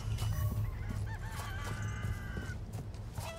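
Chickens cluck and squawk in Resident Evil 4 Separate Ways, several birds calling close and fairly loud over a low droning game ambience, with no talk.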